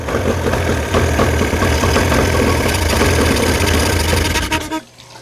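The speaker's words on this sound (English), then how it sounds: "You want to be able to keep pumping that in there till you can kill the motor or almost kill it." A boat engine idles roughly and unevenly while fogging oil is pumped in during winterizing, a loud, steady knocking drone that sputters and dies out near the end.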